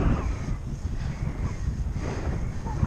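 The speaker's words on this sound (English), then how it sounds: "Wind just pushes you back." Strong headwind roaring against the microphone while riding a Raleigh Strada TS2 bicycle on a road, a continuous loud low buffeting rumble with gusty swells throughout.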